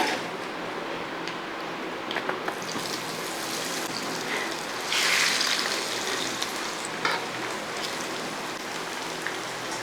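Soya chunks frying in hot oil, a steady loud crackling hiss with bright spattering bursts throughout, briefly swelling louder midway, no voices.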